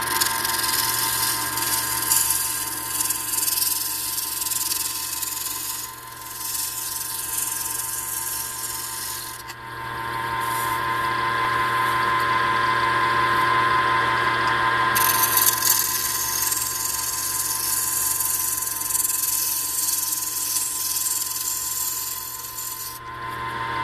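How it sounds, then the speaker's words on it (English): A flat scraper cleans the outside of a wooden horn cup spinning on a lathe, giving a continuous close scraping hiss over the machine's steady hum, easing for a few seconds partway through before resuming. "Now I'll move to my flat scraper to clean up the outside."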